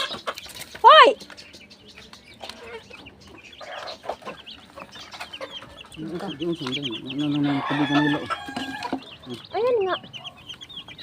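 Chickens cluck around a farmyard among chicks, with a rooster's sharp crow near the start and busy fowl chatter building toward the end, while people talk nearby.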